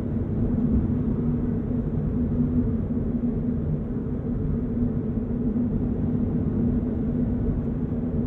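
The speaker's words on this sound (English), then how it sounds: "It's tire noise, it's road noise," Steady, loud cabin drone inside a 2022 Subaru BRZ manual on the move, blending tire roar, road rumble and wind rush into an unbroken low hum with no talking.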